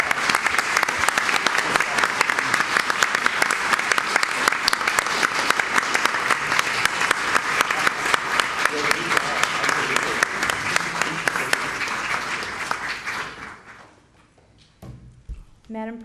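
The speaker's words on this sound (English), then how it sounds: "huge round of applause?" Applause from the audience at a school board meeting, dense sustained clapping for about thirteen seconds before it fades out and a voice begins speaking.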